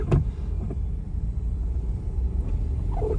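A car travelling along a snowy road, steady low engine and tyre rumble filling the whole stretch, close and continuous, with no talking.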